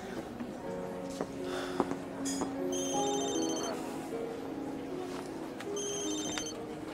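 A telephone rings with repeated electronic ringtone bursts in a quiet indoor scene, moderately close, with faint background sounds between rings.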